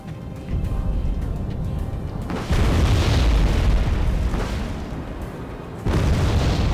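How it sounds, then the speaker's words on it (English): Heavy bomber airstrike explosions in Wargame: Red Dragon, a dense rumbling barrage of booms on a bridge that swells loud around the middle and again at the end, with no talking. "I'm bringing in a bomber just to suppress these guys on the bridge. Although I end up hitting round about here."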